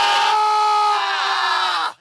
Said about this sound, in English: One big scream. Ready? Scream.